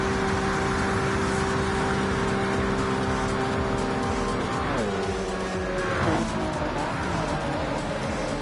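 Race cars roaring in Gran Turismo 7 on the Mulsanne straight at night, a loud sustained engine whine under steady load, then pitch drops sharply twice as the cars downshift and brake.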